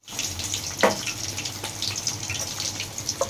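Marinated fish fries in hot oil, giving a continuous moderate hiss with a few sharp pops and crackles scattered through it.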